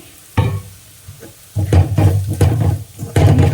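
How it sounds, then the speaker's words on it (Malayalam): Spices such as coriander powder, garam masala and pepper powder stirred in a pan for potato curry, with a series of close scraping, shuffling strokes in uneven bursts and a faint sizzle beneath. "ഇളക്കി കൊടുക്കാം പച്ചമണം മാറുന്നവരെ"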